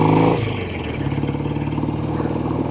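A classic Spitfire Special Mark III motorcycle engine running close by, a louder burst at the start settling into a steady, throbbing idle with an even pulsing beat.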